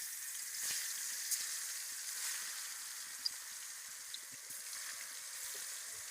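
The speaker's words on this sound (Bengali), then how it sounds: "আমি হলুদ লবণ মাখা মাছ দিয়ে দেবো।" Fish coated with turmeric and salt fries in hot oil, giving a steady, close hiss of sizzling with scattered small pops and crackles, no voices.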